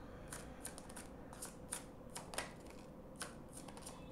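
Tarot cards are shuffled quietly and close by, giving a run of soft, irregular riffling snaps with no speech.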